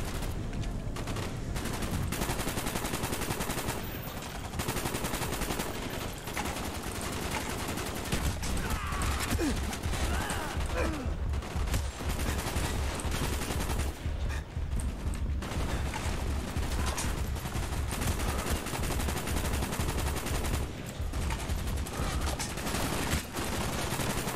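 AK rifle fire in the video game Call of Duty: Black Ops: loud, dense bursts of rapid gunshots fill the whole stretch, with faint game voices in the background.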